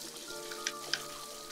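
Rain falls in the video game My Time at Portia as a faint, steady hiss, with two small, distinct droplet ticks standing out over a low background tone.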